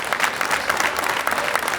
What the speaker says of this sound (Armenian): Շնորհակալություն Գրիգ Գևորգյան, բարձր ծափարենք։